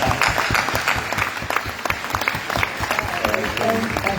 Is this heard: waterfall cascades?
no